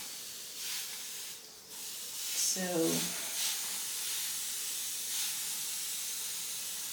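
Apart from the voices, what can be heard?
spray bottle spraying water onto 4C hair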